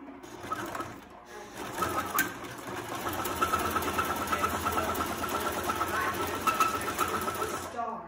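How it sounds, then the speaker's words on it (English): Sewing machine stitching the short ends of a fabric face mask, a steady close mechanical whir running almost continuously after a brief start, with voices talking over it. "now we're sewing up those little short ends"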